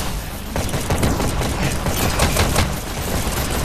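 Rapid gunfire in the VR shooter Hyper Dash, a dense continuous volley of loud shots filling the whole moment with little pause.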